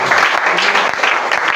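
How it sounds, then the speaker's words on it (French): A church congregation claps and cheers loudly together, a steady dense burst of applause with voices mixed in. "Est-ce qu'on peut acclamer fort le Seigneur?"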